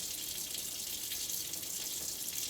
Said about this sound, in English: we're gonna rinse all the soap off